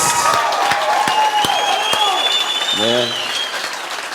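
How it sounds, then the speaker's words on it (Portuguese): Loud, sustained applause from a church congregation fills the room, gradually tapering off toward the end as a brief tone sounds. "Eu queria que você desse uma salva de palmas pela vida deles."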